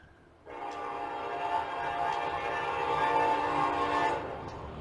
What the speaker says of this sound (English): a train's going to come by during my video